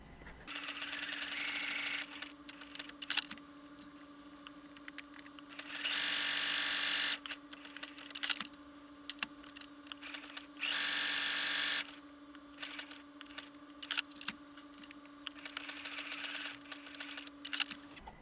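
A sewing machine zigzag stitching runs in several bursts of rapid mechanical stitching, separated by brief pauses and a steady electrical hum underneath.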